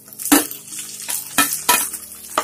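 Mint, curry leaves and tomato pieces frying in a pan for tomato mint rice, a steady sizzle broken by four sharp scraping stirs that come close and fairly loud, with no talking.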